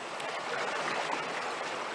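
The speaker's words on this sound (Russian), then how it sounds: "волны продолжают достаточно быстро бежать с востока." Sea waves at Simeiz beach on the Crimean coast, with fast waves running in from the east, make a steady, broadband wash of surf that keeps going without a break and with no voices over it.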